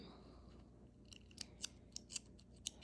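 Several sharp scissor snips trimming a woven-in yarn end, close and quiet, arriving in an irregular series of crisp clicks over a faint background hum.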